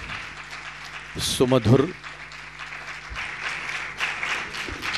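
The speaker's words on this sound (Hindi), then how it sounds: "तालियां बजाकर साधुवाद प्रकट करते हैं।" An audience at an Indian classical vocal concert gives a steady wash of applause, while a voice briefly speaks over it near the start.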